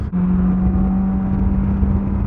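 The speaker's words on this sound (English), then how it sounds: "it definitely accelerates" A Polaris Slingshot SL three-wheeler pulls away under acceleration, a close, loud engine drone with a steady low hum and road rumble, no talking.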